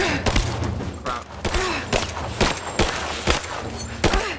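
Gunfire in Rise of the Tomb Raider cracks out as a rapid series of sharp, loud shots, roughly a dozen over a few seconds at an irregular pace, with impacts and game sounds between them.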